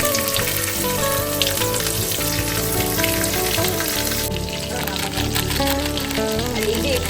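Onion and garlic cloves drop into hot oil tempered with cumin and dried chili, giving a loud, dense, continuous sizzle and crackle close by, with background voices and some rain-like patter mixed in.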